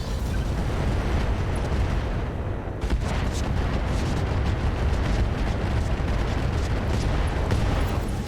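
Heavy weapon fire with autocannon rounds and explosions pounding a Longbow mech in the RogueTech video game, a dense continuous barrage of booms and blasts lasting throughout, loud and unbroken with no voices.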